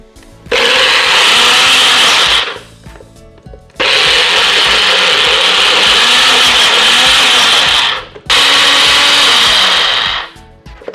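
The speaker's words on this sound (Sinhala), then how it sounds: "හරි අපි එහෙනම් මේක බ්ලෙන්ඩ් කරගමු" A kitchen blender churns homemade cream cheese with butter in three loud, sustained bursts, each running a few seconds with short pauses between, its motor whirring close and steady.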